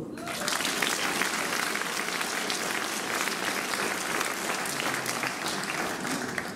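Audience applause at an orchestral concert, a dense, steady clapping from a full hall that holds at an even level throughout, with no voices over it.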